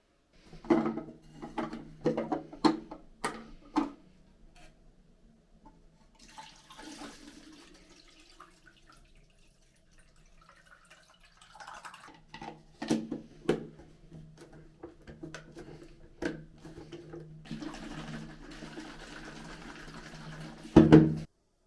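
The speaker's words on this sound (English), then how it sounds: "let's get the chemicals mixed with some water and put it in there" Water runs and splashes as film developing chemicals are mixed in for photo processing, with clinks of containers and a louder pour and rush of liquid in the closing seconds.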